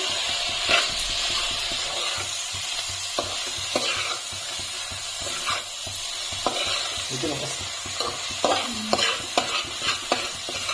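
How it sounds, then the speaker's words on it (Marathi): Paneer pakoras are stirred through chilli sauce and soy sauce in a pan, giving a steady sizzle with repeated scraping strokes of the spoon, close and fairly loud, with no talking. "त्याच्यामध्ये आता पनीरचे पकोडे टाकले आहेत आणि आता मस्त मिक्स करून घेते"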